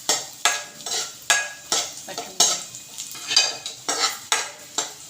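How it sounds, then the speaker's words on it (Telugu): Semolina being dry-roasted and stirred in a pan over a low flame for rava laddu, with repeated scraping strokes roughly every half second and a light sizzle, close and steady with no talking. "ఇలా దోరగా సిమ్లో పెట్టుకుని దోరగా వేయించాలి."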